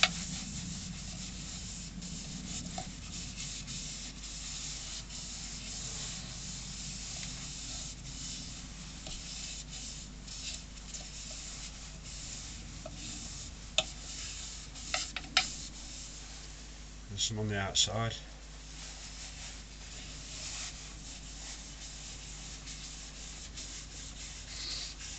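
Soft, steady rubbing by hand on a yew bowl, applying cellulose sanding sealer, a gentle continuous friction with a few brief knocks, under occasional quiet talk.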